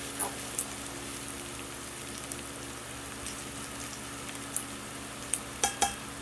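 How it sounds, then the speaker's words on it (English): Garlic frying in a pan, a continuous even sizzle close up with scattered small pops and clicks growing more frequent toward the end, with no talking. "I'm gonna let this ride until my garlic starts to look like it's starting to turn color."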